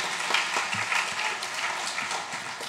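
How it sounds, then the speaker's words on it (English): A church congregation claps for a girl about to be baptized, a moderate, fairly quiet patter of applause heard from a short distance, steady and brief. "yes, give her an applause."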